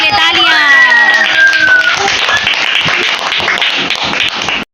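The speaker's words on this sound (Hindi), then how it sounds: "और रोहान के लिए तालियां।" A children's audience claps for a second-prize winner at a kids' competition held on the ninth of Muharram. A voice speaks at the start, then a dense patter of many small hands carries on steadily to the end.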